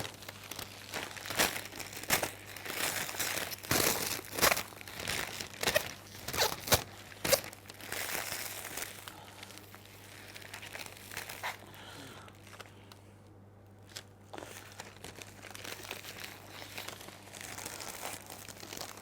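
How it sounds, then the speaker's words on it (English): Cellophane crinkles and crackles in irregular close bursts as it is pulled around a single cymbidium orchid stem, busy at first and then quieter and sparser. "it allows me then to pull the cellophane into the right position"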